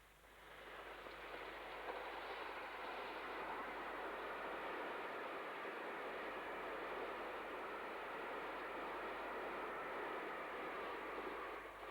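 LNER A1 steam locomotive 60134 Foxhunter runs through Crossgates at speed on an express, a broad, steady rushing roar that holds loud for the whole passage with no voices.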